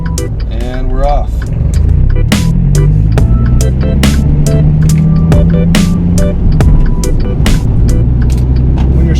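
Manual stick shift car pulling away from a stop, engine note rising under steady road rumble, with repeated sharp clicks and a person talking over it.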